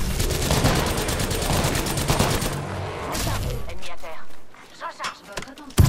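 Rapid automatic gunfire in the battle royale shooter Apex Legends: loud, steady bursts of shots over the first few seconds, then a few scattered thuds and quieter sounds trailing off.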